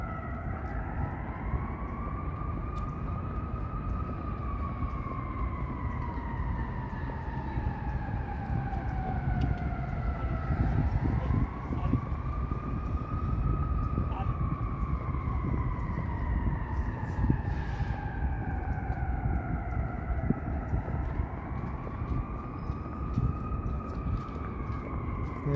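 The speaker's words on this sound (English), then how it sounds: "it sounds like fire truck sirens" Fire truck sirens on a city street in Toronto on a warm Saturday night: a slow wailing tone that rises and falls in long sweeps and carries from a distance over steady traffic and street noise.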